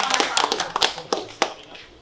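Scattered hand claps, a few sharp separate claps spread unevenly over two seconds, fairly close, as at a live Filipino rap battle event, with faint crowd noise beneath.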